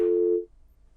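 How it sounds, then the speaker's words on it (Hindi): A steady telephone line tone sounds on a live TV phone-in call just after the caller's connection drops. It is one clear, even tone lasting under half a second, then it cuts off into near silence. "यहाँ पर संपर्क टूटा है"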